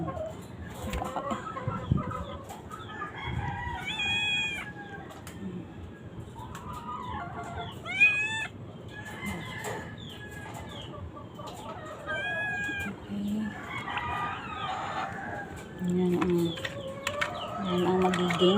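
A prolapsed hen clucks in short repeated bursts alongside other fowl, with a few brief rising calls mixed in over low background noise.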